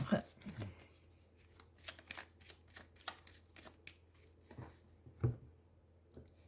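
Tarot cards shuffled by hand for a reading, with a run of soft, brisk riffling bursts and taps close up while someone talks quietly over them.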